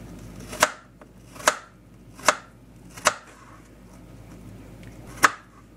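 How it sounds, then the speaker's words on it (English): Knife slicing apples into small pieces on a cutting board, five sharp, separate chops spaced about a second apart, close and clear against a quiet background with no talk. "And then you just slice them up into small pieces."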